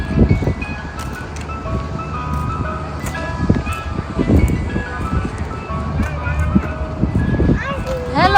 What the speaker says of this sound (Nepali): आइसक्रिमको ट्रक पनि पुरा बजिरहेछ पछाडि।